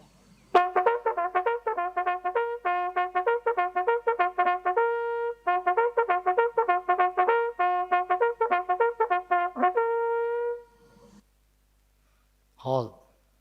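A military trumpet plays the forward-march call as a long run of quick, bright, repeated notes in a brisk rhythm, breaking briefly once, then ending; a short sound follows after a pause.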